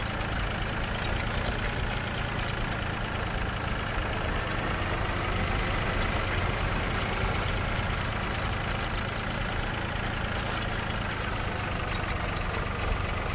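A tractor engine in the farming video game Landwirtschafts Simulator 2013 drones steadily at a low idle, a continuous even hum without breaks.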